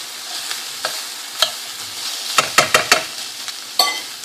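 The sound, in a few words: onions sizzling and stirred in frying pan for fajitas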